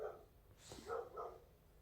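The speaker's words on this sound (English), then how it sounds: "the dogs are barking outside" Dogs bark outside an RV, a few faint, distant barks in quick succession over a quiet background.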